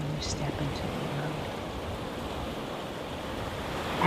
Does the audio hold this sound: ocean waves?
yes